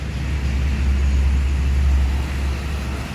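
A bus rolling past on a road, a low steady engine and tyre rumble that swells slightly in the middle and eases off, fairly close, with no voices.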